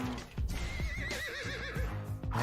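Horse whinnies in the game Grand Theft Horse, a wavering high neigh rising and falling over about a second, set against loud game music and effects.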